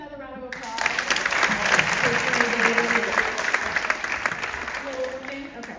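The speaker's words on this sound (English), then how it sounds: "Can we give another round of applause?" Sustained audience applause fills the room after a keynote speech at an HBCU event in 2024, a dense, steady clapping wash lasting several seconds at fairly loud level, with a few faint voices mixed underneath.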